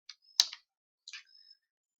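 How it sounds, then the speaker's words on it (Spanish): A RAM memory module is pressed into a motherboard slot, giving two short plastic clicks about half a second apart. The clicks are crisp, close and fairly quiet against silence. "empujar el mismo lentamente sin ejercer fuerza hasta que escuchemos un clic"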